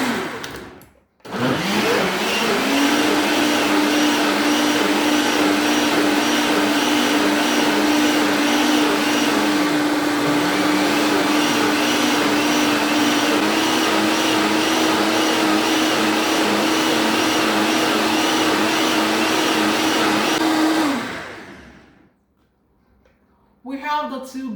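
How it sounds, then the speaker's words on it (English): Oster Pro XL and Vitamix E310 blenders running together blending blackberry and blueberry smoothies, a loud continuous motor whine with a steady hum that holds for about twenty seconds before winding down. "So I started both blenders on purse already, and I'm just going to continue blending."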